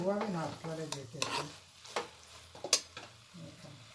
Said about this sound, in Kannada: ಒಂದು 3 ನಿಮಿಷ ಫ್ರೈ ಮಾಡಿದ್ರೆ ಅಕ್ಕಿ ಇನ್ನೂ ಚೆನ್ನಾಗಿ ಉದುರುದ್ರಾಗತ್ತೆ.